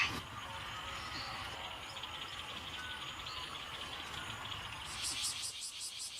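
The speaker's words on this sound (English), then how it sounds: "Ooh, I can hear the cicadas. I can hear birds." A steady insect drone, like cicadas, fills a quiet outdoor scene, with faint bird chirps and a rhythmic pulsing chirr near the end.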